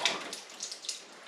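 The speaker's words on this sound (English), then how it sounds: "as soon as you cut it here, water starts just constantly coming out" Water spurts in bursts from a cut, nailed plumbing pipe, a faint hissing splatter that surges and eases several times in quick succession.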